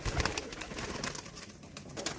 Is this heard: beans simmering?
no